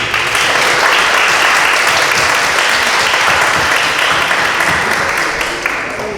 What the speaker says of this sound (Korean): 다 같이 격려 박수 드리겠습니다